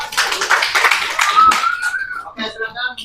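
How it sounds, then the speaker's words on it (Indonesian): A classroom of students claps for a group that has just presented, a burst of dense applause that fades out, with voices talking over and after it. "Tepuk tangan untuk kelompok 3."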